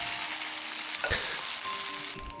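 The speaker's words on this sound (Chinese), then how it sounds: "跟住咧，我哋煎块细嘅先" Luncheon meat and egg frying in a wok produce a loud, constant sizzle with a short clatter of the spatula partway through. No voices are heard.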